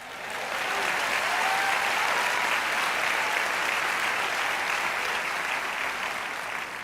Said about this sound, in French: Allez, acclamons le Seigneur.